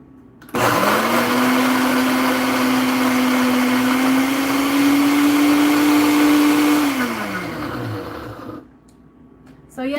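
A countertop blender on manual blend grinds peanuts into peanut butter, a loud steady motor whine that starts abruptly, holds a rising pitch for several seconds, then spins down and stops.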